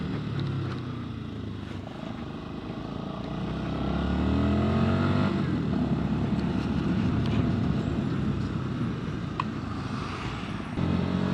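A Sinnis SM-XE electric motorcycle riding on a road, a low whirring motor hum with rising and falling pitch as it accelerates, overlaid by steady wind and tyre rumble, close and continuous.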